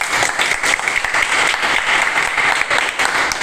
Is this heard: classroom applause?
yes